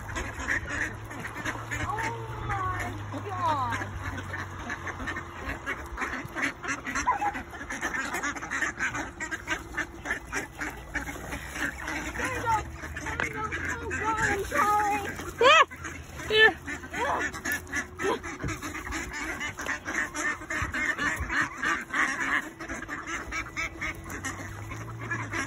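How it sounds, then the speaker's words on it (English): A large flock of ducks quacks nonstop, with many overlapping calls close by and a goose-like honk or two mixed into the dense, busy chatter. "Too many ducks."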